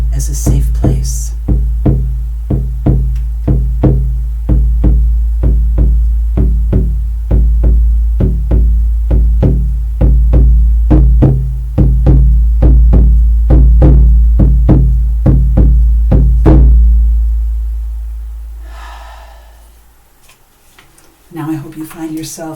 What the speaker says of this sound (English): I'm going to lead you there with the sound of the drum.